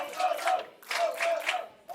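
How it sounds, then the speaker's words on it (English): Crowd at a live pro wrestling show reacting to a tag team, a swelling mass of voices with a few boos rising and falling in three waves, fairly close and loud. "A couple of boos in the crowd for Progressive Overload there."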